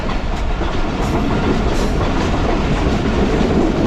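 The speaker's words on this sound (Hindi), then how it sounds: "उम्मीद है कि ट्रेन अच्छी स्पीड में चलेगी" Pak Business Express passenger train running at speed on the Bahawalpur to Karachi route, a steady loud rumble of wheels and carriage with rhythmic clickety-clack throughout, heard from inside, no talking.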